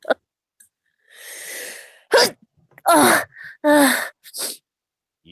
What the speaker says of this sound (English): Sneezing hurts